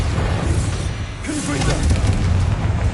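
A Bombarda blasting spell goes off in the video game Hogwarts Legacy, a dense low rumbling boom sustained for a few seconds, loud and close with a whooshing swell in the middle.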